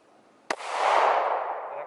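A single sharp gunshot from a handgun at a shooting lesson cracks out loud and close, then a long ringing decay follows it.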